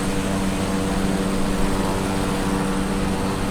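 A light aircraft flying over the Isles of Scilly in Microsoft Flight Simulator 2020 gives a steady, loud propeller-engine drone that holds unchanged throughout, with no talk.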